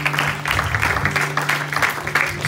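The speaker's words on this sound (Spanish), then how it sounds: "Alguien puede darle ofrenda de palmas al Señor Jesucristo." Clapping from a congregation at a Spanish-language Sunday praise and worship service, a steady wash of many hands over a low organ or keyboard drone, moderately loud and continuous.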